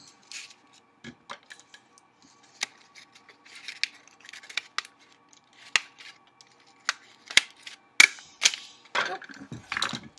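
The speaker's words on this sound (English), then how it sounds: "you just want to staple the bottom part of the paper to make your fish a little bit more 3D" Stapler punching through paper while assembling a paper fish craft, a series of sharp, crisp clicks and snaps at irregular intervals, close and fairly loud, with soft paper handling between them and no talk.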